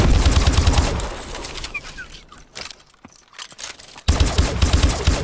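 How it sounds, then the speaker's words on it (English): The OHM gun fires bursts in Call of Duty: Advanced Warfare on the Havoc map during team deathmatch, loud rapid shots at the start and end with a quieter lull between. "It shoots pretty amazing."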